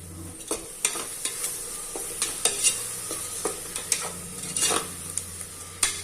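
A spoon stirs mutton masala gravy with yogurt and a little coconut in a pan, giving irregular scraping strokes over a soft sizzle, close and fairly loud, with no talking.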